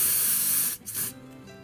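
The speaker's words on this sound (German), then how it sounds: "sondern mache da nur das Sprühpflaster drauf" Spray plaster hissing out of a can onto a temporary tattoo, a loud steady spray for most of a second, then a short break and a brief final burst, heard close up with no voices.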